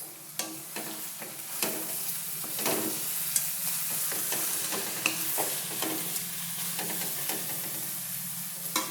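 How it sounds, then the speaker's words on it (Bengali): Pre-fried potatoes and spices fry together in a pan, a constant sizzle punctuated by repeated sharp scrapes and knocks of a spoon stirring against the metal. "আলু দিয়ে আরও দেড় থেকে দুই মিনিট একটু ভেজে নেব আমি সব কিছুকে একসাথে"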